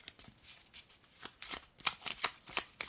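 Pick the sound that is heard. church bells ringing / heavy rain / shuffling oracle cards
shuffling oracle cards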